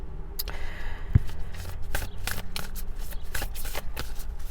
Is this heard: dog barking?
no